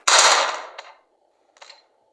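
A gun fires in the Melon Playground video game: one loud, sharp synthetic gunshot with a short decaying tail, then a smaller click and a later faint second report, alone with no talk.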